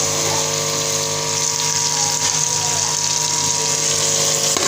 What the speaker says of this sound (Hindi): थोड़ा सा पानी ऐड करेंगे ताकि हमारा मसाला ना लगे।